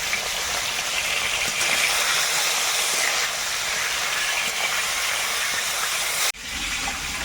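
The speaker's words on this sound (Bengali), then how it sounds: "সব রকম মাছ মিশিয়ে ভেজে তুলে" Mixed pond fish frying in hot oil give a steady, loud broadband sizzle and hiss that runs continuously, with a brief dip and a soft clatter near the end.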